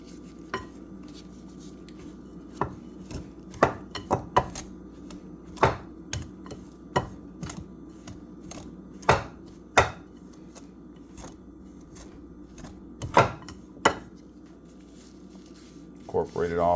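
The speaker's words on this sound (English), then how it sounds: "Just perfectly cut the butter and incorporate the frozen butter into the flour." Frozen butter being cut into flour in a bowl for apple cobbler, with irregular sharp clinks and taps of a utensil against the dish over a soft steady background, sometimes in quick bursts.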